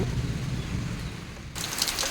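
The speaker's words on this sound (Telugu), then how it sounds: "వర్షం ఎక్కువ వచ్చేస్తుంది" Steady, dense rain pours down as a continuous broadband hiss, loud and close, with no voices.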